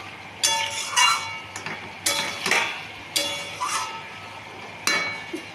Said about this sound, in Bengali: এঁচোড়ের সঙ্গে মশলাটা যাতে মিশে তার জন্য আবার একটু নাড়িয়ে চাড়িয়ে ঢেকে দেব।